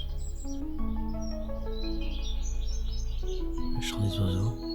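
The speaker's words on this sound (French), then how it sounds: "Le chant des oiseaux." Birds sing in the early morning near vineyards in Italy, several chirping and warbling calls layered over a steady low hum, moderately close.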